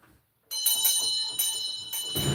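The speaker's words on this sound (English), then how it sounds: "Ring a bell." A bell rings loudly and close, its bright metallic strikes repeating in quick succession and sustaining a shimmering ring, with no talking over it.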